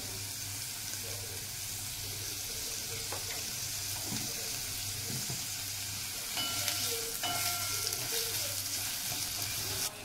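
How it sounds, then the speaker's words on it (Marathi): Onion frying over a low gas flame with salt for Maharashtrian zunka, a continuous soft sizzle with occasional spatula scrapes, growing slightly louder toward the end. "ते बघा आपला कांदा मस्तपैकी फ्राय झालेला आहे, मऊसूत"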